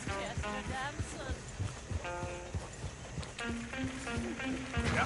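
Hooves of a horse-drawn coach clip-clop in Red Dead Redemption II, a quick, steady rhythm of clear hoof beats with tonal game sounds layered over the trotting.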